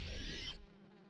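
A swarm of flies buzzes in a video game, a dense, loud droning hum that cuts off abruptly about halfway through.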